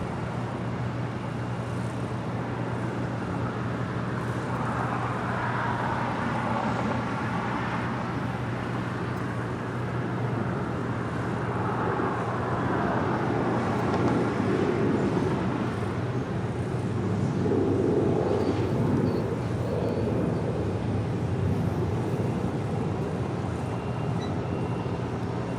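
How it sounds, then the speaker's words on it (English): An American Airlines A321neo arriving from Dallas Fort Worth comes in to land at LAX, heard as a broad, steady jet roar that swells gently over a low background hum of airport and road traffic. "And coming in from Dallas, Fort Worth, Texas, American Airlines, flight 1953 in this A321neo."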